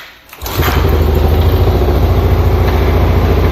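A Yamaha Tri-Moto three-wheeler, choke on and decompressor engaged, catches after a brief crank and settles into a loud, steady, close-up idle with an even putter that keeps running.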